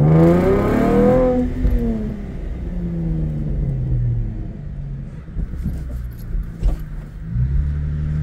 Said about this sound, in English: if I just cruise over these speed bumps